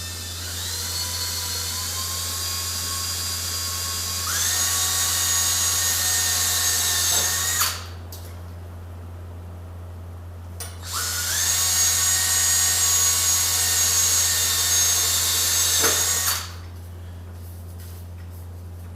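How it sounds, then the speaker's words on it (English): A power drill whirs in two long bursts, spinning up and winding down with a brief pause between, steady hum underneath. "Now I'm going to drill those 2 holes."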